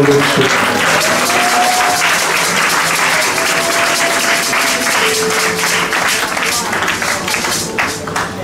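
A church congregation at a Sunday service applauds loudly and continuously, dense clapping with cheering voices filling the room throughout.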